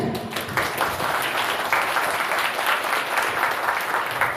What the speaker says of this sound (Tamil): அவர் இல்லாவிட்டாலும் கைத்தட்டலாம்